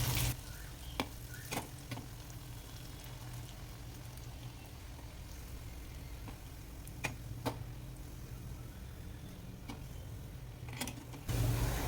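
Broken pieces of leftover dosai and appam frying into vaththal: a soft, continuous oil sizzle, fairly faint, dotted with occasional sharp pops and clicks throughout.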